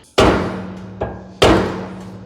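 A hammer knocks at a trailer wheel hub's dust cap: two loud, sharp metallic strikes with ringing decay, and a lighter tap between them, close up with no talk.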